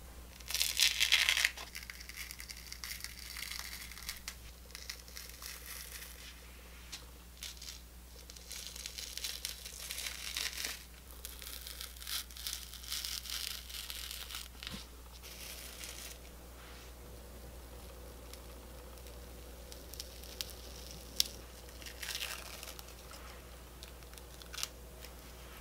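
A homemade peel-off blackhead mask is pulled slowly off the face, making soft, close crackling and crinkling tears that run quietly and continuously with no talking.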